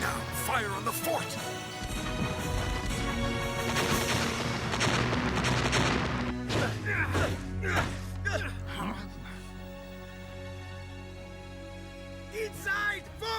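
Cannons fire on a fort in an adventure drama, a rapid series of heavy booms and crashes going off over music, with shouted voices heard over the bombardment.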